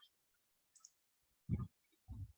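A computer mouse gives a few faint, scattered clicks, heard close in a quiet room with no talk.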